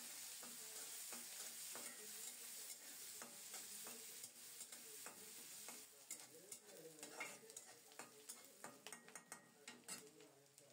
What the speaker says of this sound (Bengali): ওই তেলেই কুচানো পেঁয়াজ দিচ্ছি বেশি করে। পেঁয়াজটাকে নেড়ে চেড়ে একটু নরম করে ভেজে নেব।